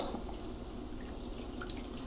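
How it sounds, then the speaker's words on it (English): Hot water carefully poured or drained off from a pot of homemade cranberry sauce, giving a steady, low watery trickle with faint drips throughout, fairly quiet and close with no talking. "So now I'm gonna take a little water out."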